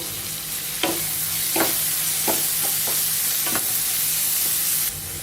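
Chopped onions, green chillies and curry leaves fry in oil for an egg curry, a constant loud sizzle broken by several scraping strokes of a spoon stirring the pan.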